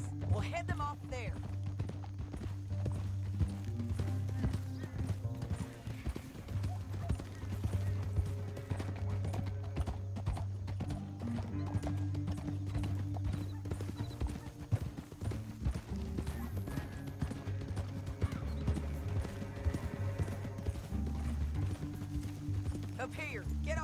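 Horses gallop with steady clip-clop hoofbeats in the Red Dead Redemption 2 video game, close and continuous under a bed of tense game music, with people talking at times.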